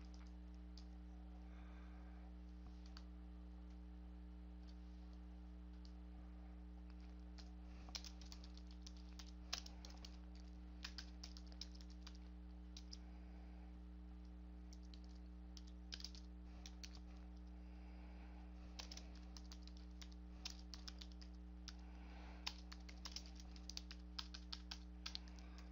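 Faint, irregular clicks from typing on a computer keyboard come in short bursts and pauses over a steady low electrical hum, with no one talking.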